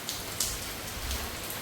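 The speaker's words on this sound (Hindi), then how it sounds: "ये देखो भाई पूरी तेज बारिश है।" Heavy rain falls steadily outdoors during a downpour, making a soft, continuous hiss with a few brief splashy drops. It is fairly faint and has no voices.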